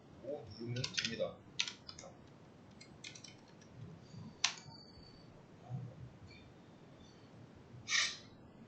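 Sparse keyboard clicks as a Ctrl+Shift shortcut is typed in the Eclipse editor, a few quick taps and isolated key presses, fairly faint under low background hiss.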